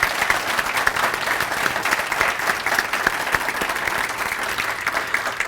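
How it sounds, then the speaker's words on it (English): An audience at a mayors' breakfast event claps for two speakers, dense steady applause with sharp individual claps throughout, fairly close and continuous. "a round of applause for our two speakers today"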